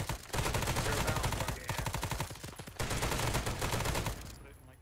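Sustained automatic gunfire in the military video game Arma 3 (S.O.G. Prairie Fire), dense rapid bursts of close shots with brief pauses, over muffled talk.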